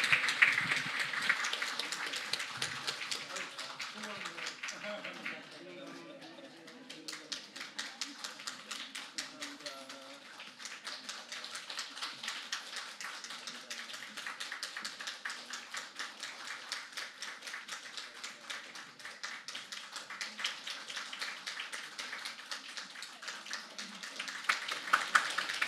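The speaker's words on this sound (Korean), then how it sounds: "우리 다 같이 박수로 우리 축하해 주시기 바랍니다" A church congregation claps together in sustained, even applause for a retirement and installation service, dense rapid claps running steadily throughout with no break.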